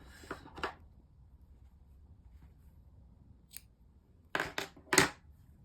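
Scissors snip off crochet yarn on a twisted headband, first two quick close cuts, then a faint click, then a louder cluster of three sharp snips near the end, with quiet pauses between.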